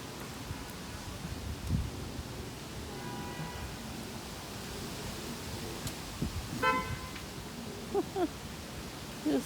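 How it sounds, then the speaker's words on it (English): A car horn toots briefly a couple of times against steady outdoor traffic noise, moderately distant, with faint rustling between. "When you hear the car honk at the corner"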